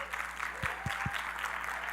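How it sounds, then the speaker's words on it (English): Brief audience applause at a professional conference, soft and fairly distant, with a few low thumps partway through. "A round of applause for all of you."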